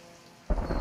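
Sudden loud thunder crash with heavy rain breaking in after a quiet stretch, in the video game Receiver 2, a rumbling burst that stays strong to the end.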